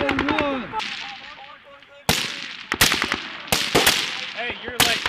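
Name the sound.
gunfire during Marine Corps field training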